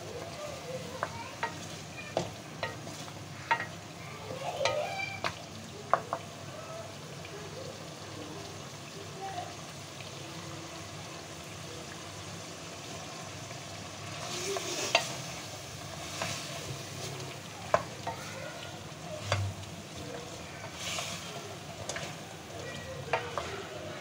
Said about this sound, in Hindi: अब हम इसको अच्छे से भूनेंगे।